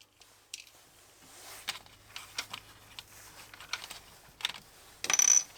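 Old hot melt glue being pried and torn out of a ZX Spectrum Plus home computer: sparse close clicks, cracks and scraping, quiet at first and building to a louder burst of snapping at the end.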